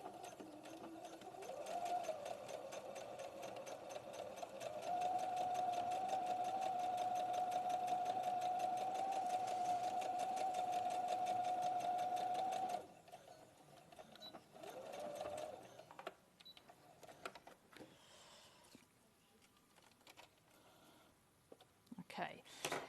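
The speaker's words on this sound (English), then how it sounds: "I'm going to sew my 1 centimetre seam allowance. Here, little back stitch." A sewing machine runs steadily for several seconds, humming as it stitches a 1 centimetre seam allowance with a small back stitch, then stops, followed by softer handling noises.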